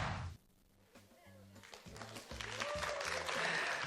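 Audience applause in a television studio during a talk show, a loud burst at the start and then a steady clapping wash continuing under people talking.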